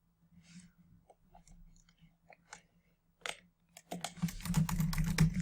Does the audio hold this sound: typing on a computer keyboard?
yes